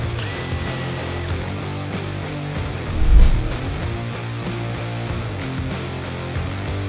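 A power drill driving screws while a large shop storage cabinet is assembled, a steady close mechanical whir that runs throughout, swelling briefly into a louder thud partway through.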